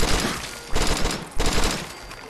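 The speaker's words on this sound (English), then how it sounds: "still hearing gunshots." Rapid bursts of video game gunfire, two or three loud volleys in quick succession, close and harsh with no talking.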